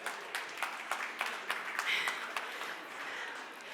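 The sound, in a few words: audience applause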